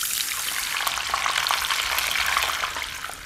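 Pieces of pigeon deep-fry in hot oil with a loud, dense crackling sizzle that continues steadily throughout, close and without any talking.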